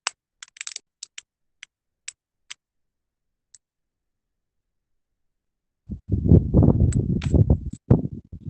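Keys clicking on a computer keyboard: a sparse run of sharp single taps early on, then a dense, louder burst of rapid typing near the end, close and with no talk.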